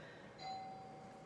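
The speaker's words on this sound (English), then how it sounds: "The doorbell's ringing." A household doorbell rings once, a single clear electronic tone held for about half a second against a quiet room.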